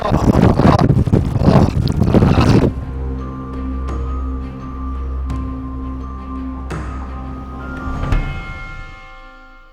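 Gusty wind roars loudly on Madeira for a few seconds, then drops away to a quieter scene with steady humming tones and faint background noise.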